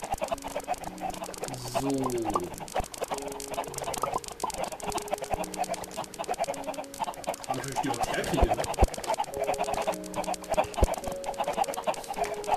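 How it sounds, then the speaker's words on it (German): Chickens clucking in the video game Minecraft, a loose flock giving repeated short clucks and squawks throughout, with someone talking over them in German. "wenn da zwei, drei neue Hühner in der Landschaft sind, ist das auch nicht schlimm"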